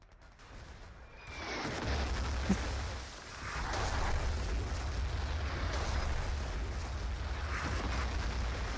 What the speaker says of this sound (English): Artillery gonna fall from Hojib